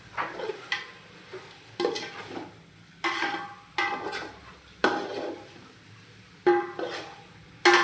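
Biryani cooking in a pot is stirred with a spoon, giving sharp scraping strokes repeated roughly every second. The strokes are close and fairly loud over a faint sizzle, with no talk.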